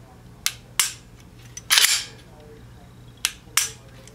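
Glock pistol trigger dry-fired and reset: sharp, loud mechanical snaps arrive in pairs, a longer rattling click in the middle, then two more crisp clicks, close up with no talk.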